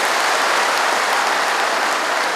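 Applause at a launch ceremony for Bandung's Brigadir RW neighborhood officers, a loud, dense wash of clapping from a large audience, uniform and unbroken for the full few seconds.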